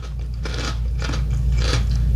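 A light, crunchy international snack with a peanut flavor is bitten and chewed close to the mic, three or four crisp crunches in quick succession over a low background hum.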